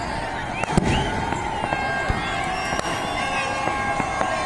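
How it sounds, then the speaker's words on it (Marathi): Fireworks and firecrackers crackle and pop across a crowded beach at midnight on New Year, sharp bangs and whistling bursts over a constant murmur of people talking and cheering. "इकडं फटाके वाजत आहेत."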